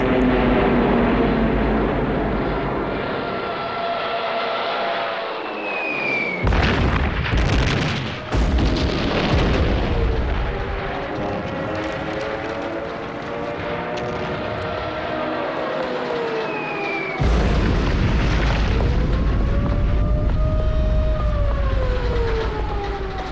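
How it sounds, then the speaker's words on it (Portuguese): Aerial bombardment of Warsaw in September 1939, with loud droning aircraft, descending whistles and heavy booming explosions layered in a dense, continuous wartime din, broken by sudden cuts and renewed blasts. "Em setembro, Hitler ordena o bombardeio de Varsóvia."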